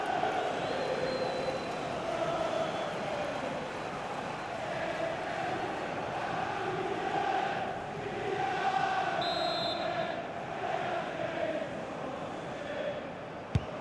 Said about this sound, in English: it must be really great for these Liverpool players to hear this crowd